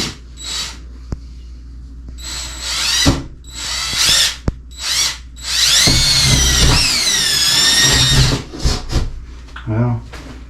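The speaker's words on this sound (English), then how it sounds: "Now if I can keep my drill as close to level and left, right, up and down" A power drill runs in several short bursts, then grinds in a longer, straining stretch through the wall of an old single-wide mobile home, with clatter and pauses between.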